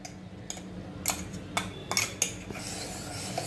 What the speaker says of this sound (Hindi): 1 करछी बड़ी भर के कुकिंग ऑयल की डाल, इसमें मैं अभी ये टमाटो प्यूरी डालती हूँ।